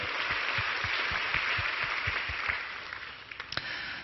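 Congregation at a Korean church service clapping together, a steady rhythmic applause with regular beats, moderately loud and sustained, fading slightly toward the end.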